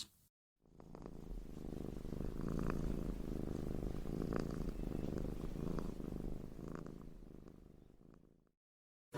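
A cat purrs steadily while being petted, a close, continuous rhythmic rumble lasting several seconds before stopping, with no talking.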